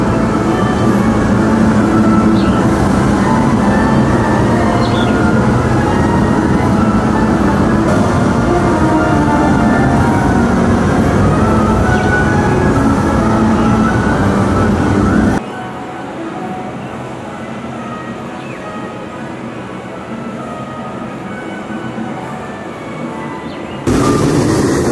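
A roller coaster train on the Jurassic roller coaster at Universal Orlando Resort rumbles and clatters loudly along its track, then the roar drops away abruptly to a quieter background hum.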